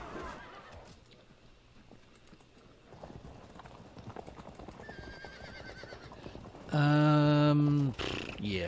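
Hooves clip-clop steadily in a strategy video game, then a horse lets out a loud, drawn-out neigh near the end, with a voice faintly talking underneath.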